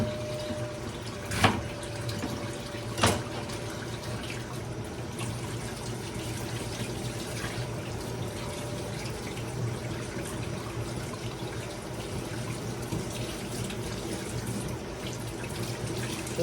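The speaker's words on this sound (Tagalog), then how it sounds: "Kailangan linisin natin ang gulay." Vegetables are rinsed under a running kitchen tap, with a steady stream of water and occasional soft knocks of produce against the sink, and no talk.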